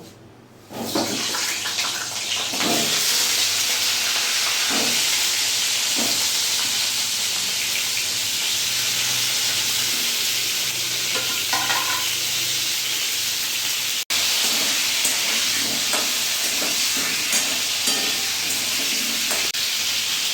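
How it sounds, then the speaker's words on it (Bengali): Pointed gourd slices frying in hot oil in a home kitchen, giving a steady, loud broadband sizzle that runs almost unbroken for the whole stretch, with occasional faint clinks of utensils underneath. "এবার এরই মধ্যে আমি পটলগুলো ভেজে নেব।"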